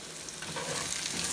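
Pork chops searing in a hot pan send up a steady, close sizzle and crackle that swells slightly as the meat settles, with no talk.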